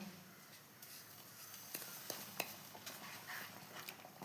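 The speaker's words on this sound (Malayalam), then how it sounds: "കട്ടയാകുന്നതിനിടെ നമുക്ക് വേഗം ഇളക്കി കൊടുക്കണം" Semolina being stirred quickly in a pan over low heat, soft scraping strokes with a few sharper clicks of the spoon, faint and close with no talk.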